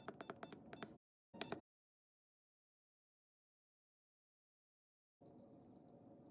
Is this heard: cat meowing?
no